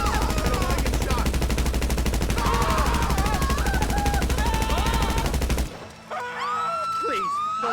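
Rapid automatic gunfire from GTA V rattles loud and continuous for several seconds, then stops abruptly, leaving quieter game sounds and a voice.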